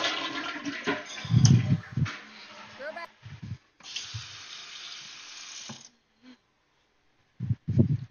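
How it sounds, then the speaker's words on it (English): A toilet flushes in the video game Content Warning with a whooshing rush of water lasting a few seconds, mixed with other game sounds and a voice talking in bursts. "Always flush."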